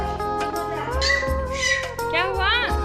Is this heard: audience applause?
no